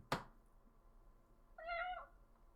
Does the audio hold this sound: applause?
no